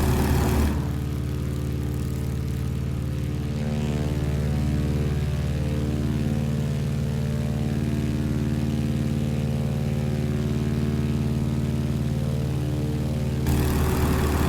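An open-cockpit propeller plane in Microsoft Flight Simulator played in VR drones loudly and continuously in flight, its engine and airscrew producing a strong steady harmonic hum with no voices.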